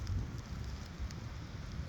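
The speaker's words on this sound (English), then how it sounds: "It's also raining again, so that's kind of annoying." Steady rain in Latvia patters and hisses continuously, a soft even wash of drops with a low rumble underneath and no voices.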